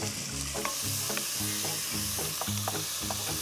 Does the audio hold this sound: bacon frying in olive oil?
yes